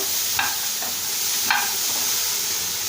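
Coconut powder fries lightly in a pan with a steady, close hiss, broken by two brief scrapes of stirring.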